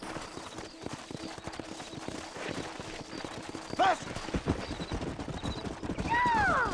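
Clip-clop of a horse's hooves in the Western video game Red Dead Redemption, a steady trotting rhythm under game music and ambience, with a brief whinny near the middle and louder effects toward the end.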